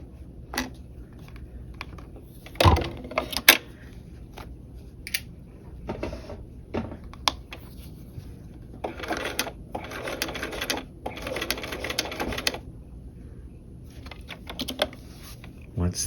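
A sewing machine stitches a dual flap pocket in several short, rapid runs separated by pauses, the longest bursts near the middle; a voice talks quietly between runs.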